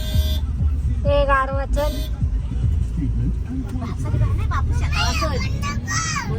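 Heavy road traffic in a crowded Panvel street, with several short car horn toots and honks near and far over a constant engine rumble, while people talk close by.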